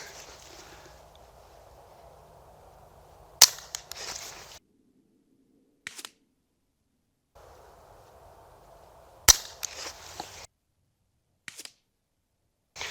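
Unsuppressed Aguila Colibri rounds fired from a Ruger 10/22 or Mark IV give two sharp, isolated cracks several seconds apart outdoors, each followed by faint echoes and small clicks.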